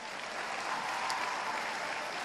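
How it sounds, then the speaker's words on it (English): Steady, continuous audience applause fills a Jamaica 4-H Clubs youth-in-agriculture symposium, a dense wash of clapping hands at even loudness throughout with no break. "I want you to put your hands together for yourself."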